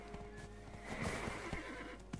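A pony in the Black Desert video game neighs over steady clip-clopping hooves, close and fairly loud against ambient game sound, with no talking.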